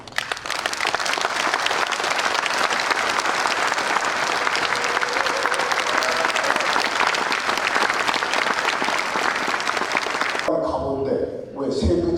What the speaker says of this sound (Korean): 원경한 대회에 여러분 먼저 큰 박수.